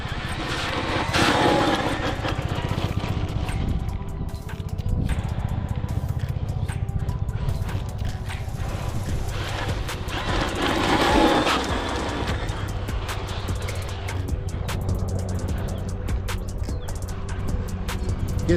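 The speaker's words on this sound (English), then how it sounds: "I'm trying to full throttle the whole time just to see." Arrma Typhon 223s RC car driven on 4S at full throttle, its motor giving a steady, loud high-pitched whine with surging rises throughout, nearby and alone with no talk.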